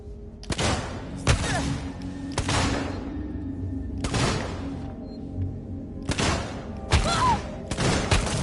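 Gunshots fired upward at a vent in Alien Isolation ring out in irregular bursts, about six loud blasts with gaps between them, each ending in a short echoing tail.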